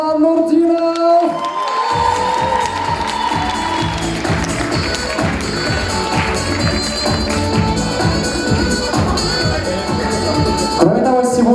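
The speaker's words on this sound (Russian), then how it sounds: "Здесь уже должны начинать раздаваться аплодисменты." A large indoor audience at a university pageant claps and cheers loudly and steadily, with whoops rising over dense continuous applause throughout, joined after a brief quieter opening.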